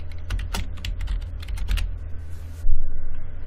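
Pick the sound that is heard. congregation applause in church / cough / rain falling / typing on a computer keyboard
typing on a computer keyboard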